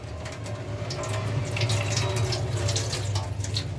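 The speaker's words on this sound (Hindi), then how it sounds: "अभी इसमें थोड़ा सा पानी लाजमी आएगा, जो कि पाइप वगैरह में मौजूद है वो निकलने का" Tap water pours steadily out of an opened pipe during a faucet spindle repair, a continuous close splashing rush that holds for about four seconds with no talk.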